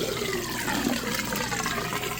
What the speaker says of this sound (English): It's running the drain right now